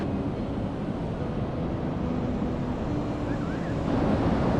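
Ocean surf rolls onto a wide beach at the Outer Banks, a steady soft wash of waves mixed with wind buffeting the microphone, with no voices.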